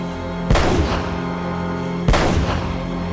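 Two sharp gunshots in Uncharted: Drake's Fortune on PS4, a little over a second apart, loud and booming over a steady low background rumble.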